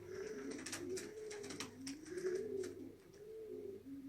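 Young homing pigeons coo softly and repeatedly, their low rolling calls overlapping in a gentle, continuous rhythm close by.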